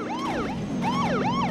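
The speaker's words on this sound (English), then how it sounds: "There's a siren." Wailing police siren from The Simpsons Hit & Run video game, two loud sweeping rise-and-fall cycles close up over a steady engine drone, with no talk.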